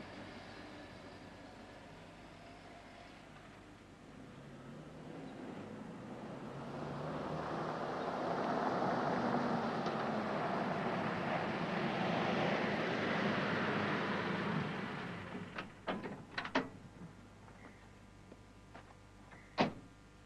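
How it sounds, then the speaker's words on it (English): A 1980 Toyota Hilux N30 4WD pickup climbs a steep slope in second gear on light throttle: a low, steady engine drone swells, holds, then fades, followed by a few sharp clunks and knocks. "No problem, even in second gear. Very light throttle pressure, and just let the vehicle walk up."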